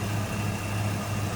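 A 1994 Ford Mustang Cobra Indy Pace Car convertible with a 5-liter V8 idles steadily up close, a smooth, even low rumble with no other sound over it.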